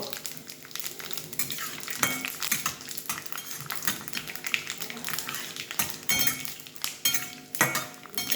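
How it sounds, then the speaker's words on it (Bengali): Panch phoron, dry red chilli and bay leaf tempering frying in oil in a pan for mixed vegetables, a continuous crackling sizzle with frequent metal spoon scrapes and clinks against the pan, close and busy. "এই ফোড়নটা আমি দিয়ে দিচ্ছি এখানে।"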